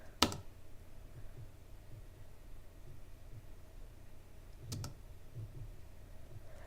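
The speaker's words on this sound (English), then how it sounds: "let's just see what happens when you click space" On a quiet computer keyboard, two sharp isolated space bar clicks land several seconds apart over a faint background hiss.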